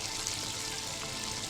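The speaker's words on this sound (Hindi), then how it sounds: "बस अच्छा सा फ्राई हो जाए।" Prawns and vegetables frying in a pan for fried rice give a steady, close, even sizzle with bright hiss throughout, no speech.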